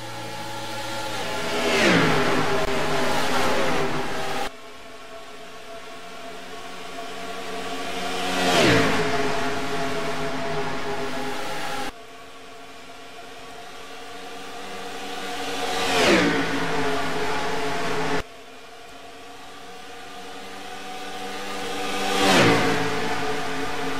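358 modified race cars at Daytona scream past in four separate pass-bys, each engine note swelling loudly then dropping in pitch as it recedes, with abrupt cuts between passes.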